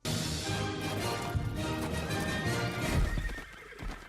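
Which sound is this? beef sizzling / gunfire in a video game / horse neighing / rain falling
horse neighing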